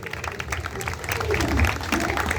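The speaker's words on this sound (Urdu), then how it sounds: "تالیاں آپ کی بجائیں گی کہ آپ خوش ہیں" Church congregation clapping at a Sunday service, a dense sustained wash of applause that swells slightly louder midway, with voices mixed in underneath.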